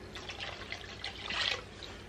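Water pours steadily into a Dutch oven of beef stew for a couple of seconds, a soft liquid splashing and filling sound.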